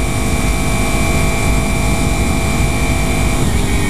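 Kawasaki Ninja 300 motorcycle engine droning steadily while riding, a loud continuous roar mixed with heavy wind rush and a constant high whine, with no break throughout.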